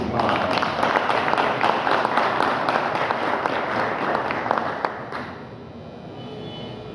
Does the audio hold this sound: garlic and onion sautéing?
no